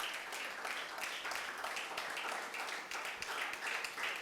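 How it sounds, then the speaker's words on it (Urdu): Church congregation applauding together at a Pakistani Urdu-language service, a dense continuous patter of many hands filling the room at moderate level, steady throughout. "ہم سب مل کر ان کو بھرپور تالیوں میں بلیس کریں گے"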